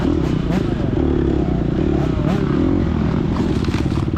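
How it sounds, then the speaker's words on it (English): A motorcycle engine revs in a TORCS racing video game, a steady, loud droning whine with scraping and clattering over it, and a voice talks over part of it. "Dude's revving his motor at me"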